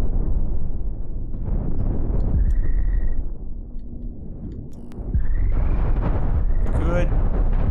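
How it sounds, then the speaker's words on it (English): Missiles strike an enemy ship in the space combat game Cosmoteer, heard as loud, dense rumbling explosions with rising whooshes, a brief dip in the middle, then renewed heavy blasts and crackling impacts. "Okay, missiles hitting him in the butt."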